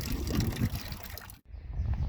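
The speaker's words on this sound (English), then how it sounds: "Just finished putting the new antifreeze in." New antifreeze pours and trickles into the radiator of an International 244 tractor, a close, soft liquid gurgle that cuts off briefly and then resumes.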